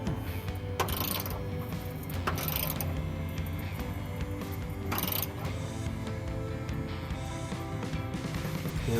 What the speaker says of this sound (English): using the 21mm again, gonna just make sure we got this one tightened up